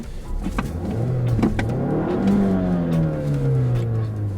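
A Mazda6 engine revs up close from idle, climbing smoothly in pitch for about two seconds and then holding a steady high note.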